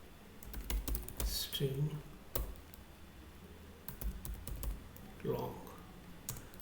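Code is typed on a computer keyboard in quick irregular bursts of clicky keystrokes with pauses between, while a person talks quietly over the typing.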